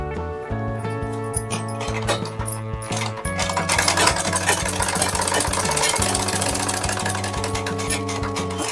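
A sewing machine stitches a salwar around a curved seam, giving a steady, close mechanical whir with a sustained motor hum and fast rhythmic needle clatter that runs unbroken throughout, with no talking.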